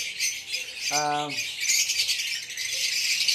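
A single short, harsh squawk from a lovebird cuts through a steady hiss of background noise, then only the hiss continues.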